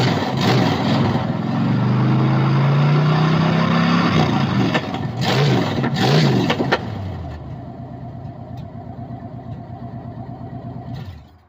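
A 1971 Dodge Dart Custom, cold-started after sitting for months, idles roughly with a loud, uneven engine note and a couple of revs before settling into a quieter, lumpier idle.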